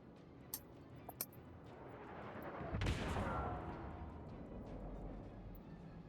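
Distant naval gunfire in the warship game World of Warships, a few faint sharp reports followed by one deep rolling boom that swells and fades into a low rumbling background.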